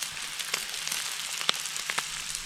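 Steady crackling sizzle of bacon frying in a pan at a summer campsite, with a few sharp pops and clicks breaking through the hiss.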